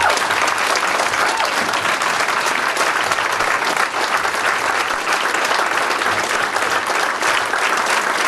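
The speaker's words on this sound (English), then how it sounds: "let's give him a good round of applause, Jerry Dishman." Audience at a Democratic gathering breaks into sustained applause for a local committee and township board member, a dense, steady wash of clapping lasting the whole stretch without letup.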